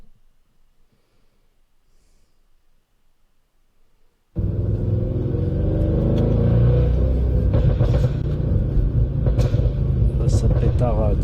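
Audi RS6 engine, quiet at first, then suddenly firing into a loud, deep rumbling rev that holds steady with crackling pops from the exhaust, close by, with a voice talking over it.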